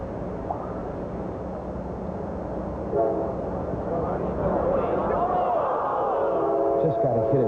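A train passes near a golf course during the 1995 U.S. Open, its horn sounding in short steady blasts over a continuous low rumble while commentators talk.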